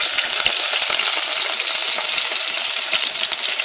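Garlic frying in two tablespoons of oil over medium-low heat, a loud, dense, steady crackling sizzle held close and unbroken throughout, with no talk.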